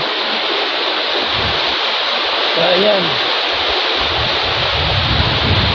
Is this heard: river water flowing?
yes